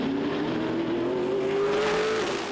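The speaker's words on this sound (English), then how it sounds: "We're seeing some drifting from that RTR looking Mustang." A Ford Mustang Trans Am race car drifts through a corner at Portland, its engine droning in one sustained, rising note that stays loud and steady with a roar of tire and track noise.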